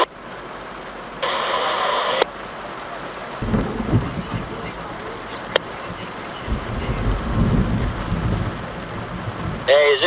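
Thunder rumbles in low, long rolls during a rainy thunderstorm, with a steady wash of rain and brief crackly radio transmissions breaking in between.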